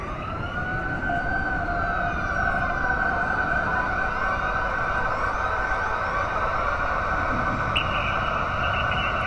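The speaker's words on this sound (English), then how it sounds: "Then, I hear a siren. Far off, but getting closer." A wailing siren sounds at a distance over steady traffic rumble, its tone rising and falling continuously without fading out.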